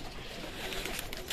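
Pigeons coo outdoors in a loft setting, soft throaty calls layered over a dense, noisy background with no talk.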